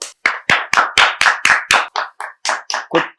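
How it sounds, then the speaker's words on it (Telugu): An audience on a television interview show claps in time, about a dozen sharp, evenly spaced hand claps close by, with no talk over them. "కమాన్ క్లాప్స్ యార్."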